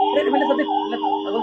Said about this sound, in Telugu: ఒక అంబులెన్స్ కి దారిస్తే అవసరం ఉంటేనే మేము అడుగుతాము అంబులెన్స్ దారి ఇవ్వమని, సైరన్ వేసి